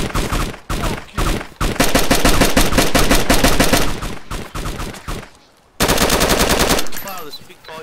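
Automatic gunfire in the video game DayZ, long loud bursts of rapid shots with short pauses between them, close and dominant throughout.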